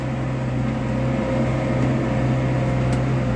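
A tractor pulls a BDP 3200 disc harrow across a 37-hectare field of wet soil, producing a loud, steady engine drone with a constant low hum that never lets up.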